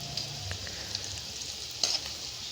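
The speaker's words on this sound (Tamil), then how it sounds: "நல்லா செந்நிறமாக மாறுவதற்கு பூண்டை வதக்குங்க" Garlic sautéing in sesame oil in a pan, a quiet steady sizzle with faint occasional stirring scrapes and a brief louder clink.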